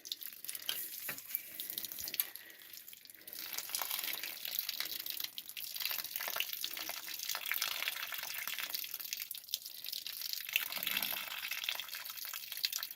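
Water draining and dripping from a disconnected water pump outlet, a fairly quiet trickle and splatter with scattered drips, running unevenly throughout with no talk.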